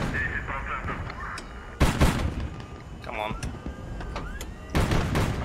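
Ship guns firing in the naval combat game HighFleet: two heavy, booming blasts roughly three seconds apart, with a dense layer of quieter battle noise and mechanical clatter running in between.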